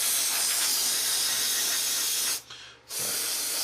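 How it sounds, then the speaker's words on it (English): An airbrush sprays in a steady, loud hiss, pauses briefly for about half a second, then resumes spraying. "We're spraying quite dry"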